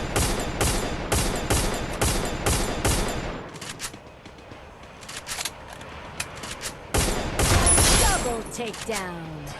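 Gunfire in the Garena Free Fire video game: rapid bursts of automatic shots at the start, a quieter stretch with faint game sounds, then another loud volley of shots near the end, with a voice talking over parts.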